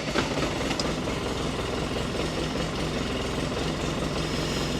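A truck runs steadily in 2-wheel drive with its back wheels raised off the ground, giving a continuous loud, dense mechanical drone and whir with no letup.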